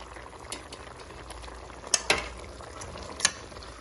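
Lobster tails simmer in sauce in a pan, giving a soft, steady bubbling sizzle with a few faint clinks of a utensil, quiet and close.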